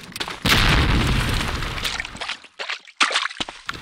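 Grenade blast in Medal of Honor Allied Assault multiplayer, a loud, close booming burst that rumbles for about two seconds and then breaks into scattered crackles and a second sharp hit.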